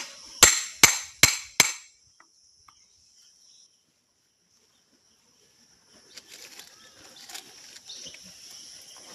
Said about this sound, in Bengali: দাদা এখন রুই মাছ কাটছে